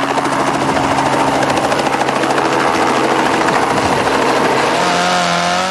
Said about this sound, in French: Guy Fréquelin embarque dans son hélicoptère pour aller surveiller de plus près les performances de son poulain